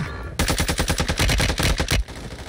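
Automatic weapon fire in Call of Duty Warzone 2, a close, loud burst of about a dozen rapid shots in even rhythm lasting under two seconds, ending abruptly into quieter game ambience.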